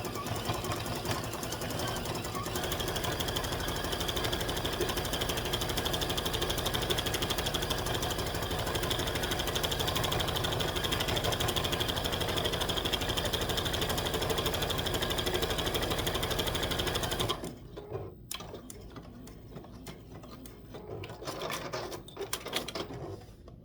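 Domestic sewing machine stitching down an appliquéd center circle on a quilt top, a steady continuous whir for about seventeen seconds before it stops, leaving quiet handling noises.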